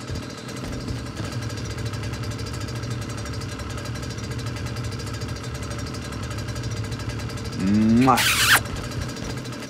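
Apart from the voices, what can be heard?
vehicle engine idling in a video game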